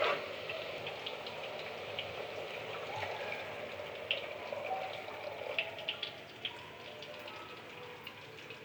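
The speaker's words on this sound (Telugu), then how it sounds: "ఇందులో ఇప్పుడు వాటర్ పోసుకుందాము." Water is poured into a cooking pot of browned vegetables for egg biryani, making a continuous soft gushing splash with light irregular drips throughout.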